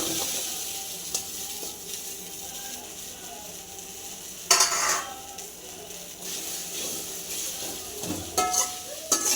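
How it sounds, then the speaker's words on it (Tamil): Okra sizzling and frying in a hot kadai over high flame, with steady crackle, occasional spoon stirring and metal clinks, close and moderately loud. "கடாய் காஞ்சிச்சு, நான் வெண்டைக்காய் போடுறேன்."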